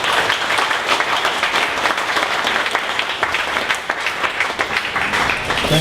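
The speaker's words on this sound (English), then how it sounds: "So everyone please stand up, give a big round of applause." Audience applause for a presenter at a 1 Million Cups Dallas startup pitch event, dense and steady clapping from a crowd filling the whole stretch at close range.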